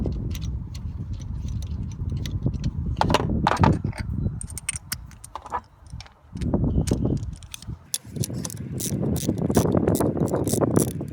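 Ratchet clicks and metallic ticking come from tightening the thermostat housing bolts on a 2011 Jeep Grand Cherokee 5.7L HEMI, a rapid close-up rattle that runs in bursts with brief pauses across the clip.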